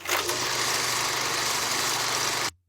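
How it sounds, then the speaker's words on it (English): An old movie projector runs in a steady, loud mechanical whir with a fast fluttering rattle and a low hum, then cuts off abruptly at the end. "old movie projector,"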